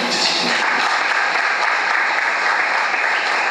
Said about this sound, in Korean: 박수 한번 내주시죠.